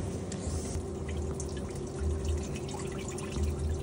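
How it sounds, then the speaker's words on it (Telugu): Water drains from cooked Korean spicy ramen noodles, poured off in a steady, continuous splashing trickle with a low hum underneath, close and moderately quiet. "ఇప్పుడు దీంట్లో ఉన్న వాటర్ అన్నీ పడేయాలి"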